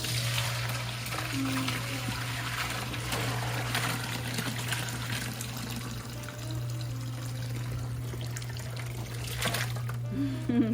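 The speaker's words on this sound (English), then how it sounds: "I'm just gonna pour my stock in there" Homemade bone broth stock pours through a big strainer into a large bowl set in a kitchen sink, a continuous trickling, splashing flow with a low steady hum underneath.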